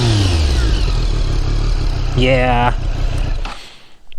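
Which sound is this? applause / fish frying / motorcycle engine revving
motorcycle engine revving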